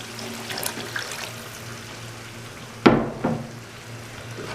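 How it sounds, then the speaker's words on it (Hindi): About 300 ml of water is poured into a simmering mutton and bottle gourd curry after the ghee separates, a sudden close splash and hiss rising over low background sizzling, then a smaller second splash. "अब मैं इसमें थोड़ा सा पानी शामिल करूँगा।"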